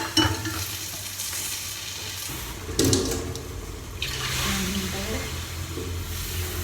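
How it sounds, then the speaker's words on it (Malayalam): Water pours and splashes into a cooking pot for upma in a steady stream, with some kitchen clatter and a faint voice in the background. "അന്നേരം 6 ഗ്ലാസ് വെള്ളം നമുക്ക് ഒഴിക്കാം"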